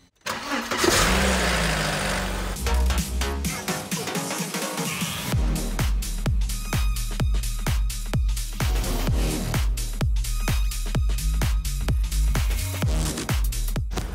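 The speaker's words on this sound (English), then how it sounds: "it's time to start up the car and let it run through the water pump" A BMW E46 Compact engine cranks and fires after cooling system and water pump work, then settles into a steady idle with a regular rhythmic pulse, close and loud with no talking.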